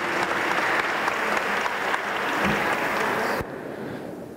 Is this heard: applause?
yes